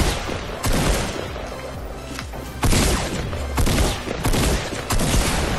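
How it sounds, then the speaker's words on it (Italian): Gunfire in the Fortnite video game, a string of loud shot bursts and impacts spread across the stretch, with several sharp onsets and heavy low thumps. "Ci stanno sparando."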